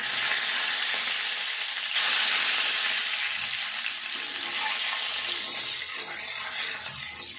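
Eggs fry steadily in a pan for egg gravy, a dense, continuous hiss and crackle of hot oil that stays close and even throughout, with no voices.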